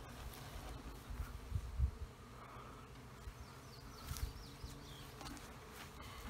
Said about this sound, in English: You have a bee on your hat. I've got bees all over.